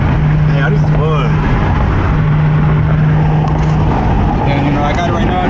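Infiniti Q50 on the move, a steady loud interior road and engine rumble with a faint droning tone, while people talk over it.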